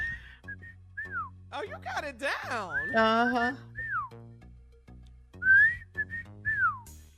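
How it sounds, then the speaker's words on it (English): A man whistles a song in short rising and falling melodic phrases, loud and close, with other people talking and laughing around him in a studio setting. "Now he whistling."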